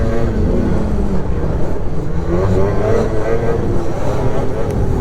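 An 800 E-TEC snowmobile engine drones loudly and steadily on snow, with rising and falling throttle tones under continuous wind and track noise.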